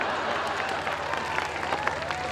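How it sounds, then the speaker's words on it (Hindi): A crowd at a Hindi poetry recital applauds in a steady wash of many hands, moderately loud and continuous, with a few crisper claps rising above it and faint murmuring voices underneath. "तालियां एक बार जोरदार बजा दीजिए आप लोग"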